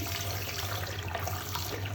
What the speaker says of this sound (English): Go to the closest hot tap